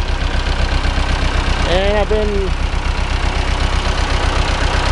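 A Long 900 tractor engine, just back from a pump and tire change, runs loud and steady in a field with a low rhythmic drone throughout, while someone talks briefly over it.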